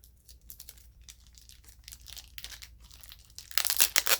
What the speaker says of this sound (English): Boy, did they put a lot of tape on here.